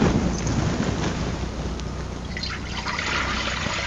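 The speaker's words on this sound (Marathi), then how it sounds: "आता आपण चुलीवर ते ना कढई ठेवूया आणि कढईमध्ये ना मी पाणी घालते" Water pours and trickles into a wok on a stove, a close liquid splashing and gurgling with some breezy rumble underneath.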